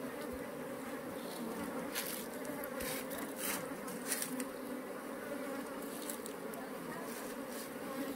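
Honeybees swarm around a beehive in a dense, steady buzzing drone that carries on throughout, broken by a few soft taps and knocks close by.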